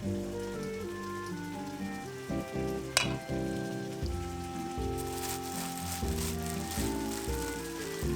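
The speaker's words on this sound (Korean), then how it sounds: "센 불에서 2분 정도 볶다가" Food stir-fried over high heat in a pan, a steady, close sizzle running throughout, with music playing underneath and a sharp clatter near the three-second mark.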